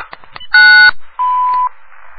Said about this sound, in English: Record greeting after the beep.